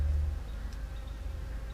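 Low, steady buzzing of bees hums throughout, close and continuous, with no voices.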